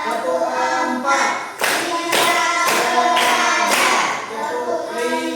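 A fourth-variant tepuk clapping pattern from an Indonesian primary-school routine, with a steady run of crisp hand claps in a regular rhythm over continuous chanting voices.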